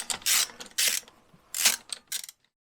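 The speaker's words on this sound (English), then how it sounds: "I have my 7/16 here, and I'm gonna get these nuts off here." Quick ratcheting bursts from a 7/16 wrench loosening nuts underneath a Jaguar XJ6 Series 3 during fuel hose work, four short close-up spells of clicking separated by brief pauses.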